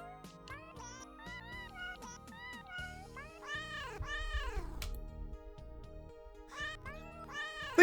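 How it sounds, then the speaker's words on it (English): A cat in the video game Plumbers Don't Wear Ties meows repeatedly, each meow a rising-falling call, clear and close over a faint musical background. "We will just make the cat meow for a little bit."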